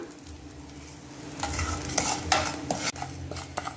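Rock salt dry roasting in a pan, a rough grainy rattle and scrape as it is stirred, building in the middle with one sharp knock, close by with no voices.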